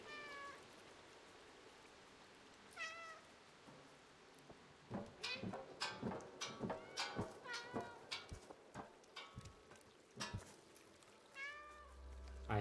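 A cat in the video game Stray gives a few clear meows against soft rain, followed by a run of quick, light taps and clicks.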